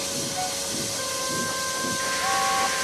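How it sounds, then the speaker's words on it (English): A steam locomotive backing down onto its train lets out a continuous close hiss of escaping steam, with thin steady whistle-like tones running through it and no talking. "He backed down onto his train, hissing mournfully."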